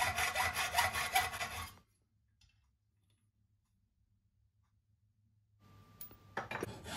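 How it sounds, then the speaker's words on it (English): Metal being trimmed for a Kawasaki S1 four-cylinder motorcycle transmission part: rough, steady rasping strokes up close, then near silence, then the rasping resumes near the end. "I'm trimming off a sliver of metal to make it fit just right."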